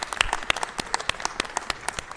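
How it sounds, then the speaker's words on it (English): People at a city council meeting give Tyree a round of applause, a thin scattering of individual claps at close range with a loose, uneven rhythm and no voices. "let's give Tyree a round of applause."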